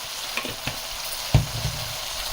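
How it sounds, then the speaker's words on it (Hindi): Salt being stirred into a simmering gravy on a low flame, a soft continuous frying hiss with a few spoon scrapes and one sharper knock against the pot, close and without speech. "और फिर हम इसको स्लो फ्लेम में नमक को मिक्स करेंगे इसमें।"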